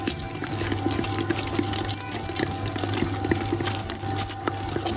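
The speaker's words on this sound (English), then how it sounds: "We wanna incorporate the water slowly and we want to give time to the dough to absorb all the water" Water runs steadily into pizza dough in a mixer as it is added slowly, a continuous trickling wash over a low, steady machine hum, with no voices.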